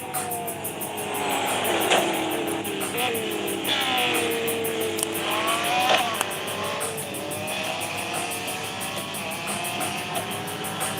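Race cars including a Ferrari and a Mustang in the racing game Real Racing 3, engines droning and rising and falling in pitch through gear changes, with a brief tire squeal and a voice talking over them.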